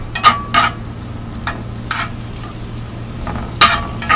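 Home-grown garden vegetables being stirred in a frying pan, a steady sizzle under intermittent scraping strokes of a utensil against the pan, close and fairly loud.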